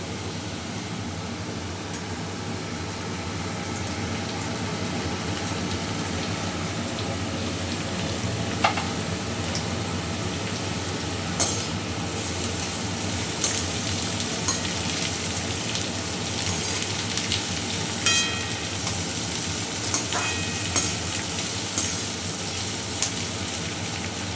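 Potatoes and onion frying in a pan, a loud continuous sizzle lasting throughout with occasional light clinks and scrapes of stirring, no speech.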